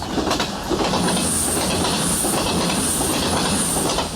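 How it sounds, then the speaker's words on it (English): A passenger train rumbles loudly and continuously close overhead on a British railway, with rhythmic clacking wheels and a high metallic squeal running throughout. "We can't obviously work while their trains are running over us."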